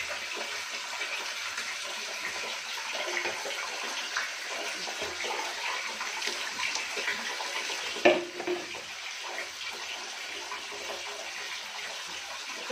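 Water splashes and runs steadily while a dog is bathed outdoors, a soft continuous wash with one brief sharper splash partway through.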